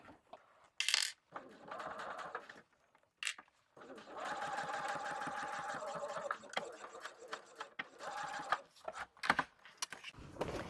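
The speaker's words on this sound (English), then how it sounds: "Sewing straight down. You should not need to pivot at all when you are sewing this" A sewing machine stitches a straight line down a bag seam, giving close bursts of fast mechanical whirring and needle clatter. The bursts start and stop between pauses, with a few small metallic clinks.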